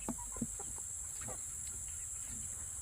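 A Wyandotte chicken gives a few short, low clucks near the start, close by, then goes quiet against a faint background with a steady high insect-like drone.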